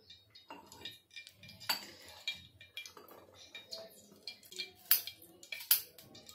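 Green chillies, garlic, ginger and coriander being pounded, giving sharp irregular clinking knocks at close range, with a faint voice in the background.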